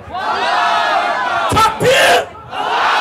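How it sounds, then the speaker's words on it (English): A crowd of voices shouts back a chant at a Takbir call during a performance, two loud massed bursts cutting through ongoing singing or talk. "Everyone responds with, Allahu Akbar!"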